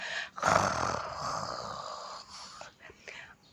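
A voice imitates snoring with a long raspy, breathy snore followed by softer snorting breaths, close and fairly quiet.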